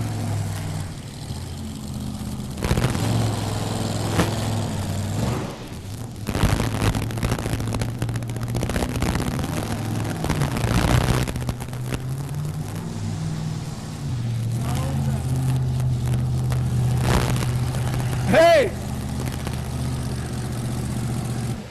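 A loud, low tractor engine at a tractor pull drones and revs continuously, rising and falling in intensity, with a brief shout and crowd noise over it.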